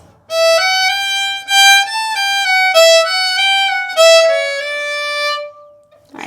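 Solo fiddle plays a bright, clean phrase of the fiddle tune Red Haired Boy, a run of distinct bowed notes with a few short breaks, close and fairly loud, ending in quiet.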